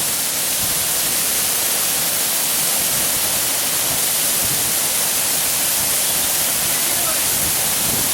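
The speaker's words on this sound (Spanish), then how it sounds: "Métete en la cascada." A waterfall in a canyon during a canyoning descent in Galicia, heard as a loud, steady broadband rush of falling water that fills the whole stretch without a break and masks everything else.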